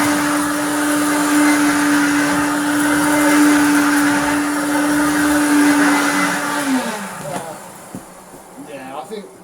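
A 1992 Hoover Junior U1426 upright vacuum cleaner with turbo power runs on deep pile carpet, a loud steady motor whine and airflow roar that winds down near the end, with a voice talking over it.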